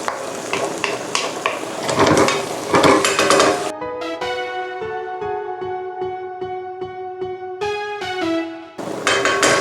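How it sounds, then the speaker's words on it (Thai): Squid ink risotto stirred in a pan as stock is added, with sizzling and scraping from about four seconds in, joined by sustained musical tones in the middle before the cooking noise returns. "เราลงน้ำสต็อกลงไปนะครับแล้วเราก็คนไป เรื่อยๆ"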